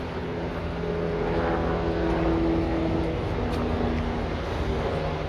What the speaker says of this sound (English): Helicopters up above.